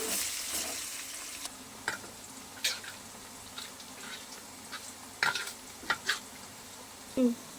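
Chicken pieces frying in a pan with chili powder and garam masala, a steady low sizzle broken by several sharp scraping and stirring clicks of a utensil, with no talk.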